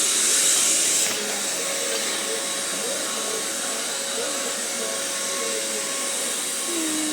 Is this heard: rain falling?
no